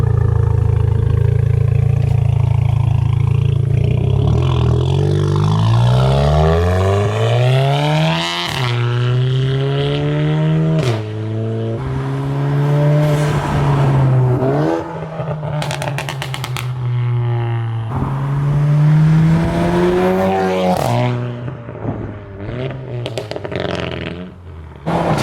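A big-turbo VW GTI with a custom stainless straight-pipe exhaust and two small mufflers revs hard and repeatedly, loud and close, its pitch sweeping up and down through sustained, aggressive bursts with no talk.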